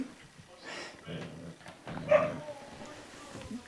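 Two dogs playing indoors give short yips, whimpers and soft growls in brief bursts, close by, with a person talking to them in between.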